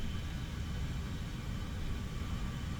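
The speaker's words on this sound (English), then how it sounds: "I hear an airplane." Steady, loud jet-engine roar from an F-84 Thunderjet in a flight video game over Afghanistan, a dense, unbroken rumble with no voices.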